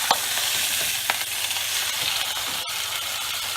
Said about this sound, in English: we're ready to add our venison haunch. We want to make sure it's well seared on both sides.